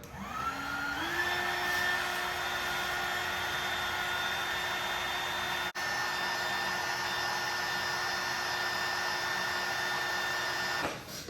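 Heat gun blowing hot air steadily to shrink heat-shrink tubing over amplifier wiring for a 1985 Chevy amp rack, a loud continuous whirring hiss that spins up at the start and runs evenly before cutting off near the end.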